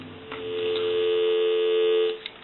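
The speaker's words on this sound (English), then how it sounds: "we'll go ahead and give you some dial tone" A steady dial tone hums from the handset of an AT&T single-slot payphone, a sustained even tone lasting about two seconds with a faint click before and after.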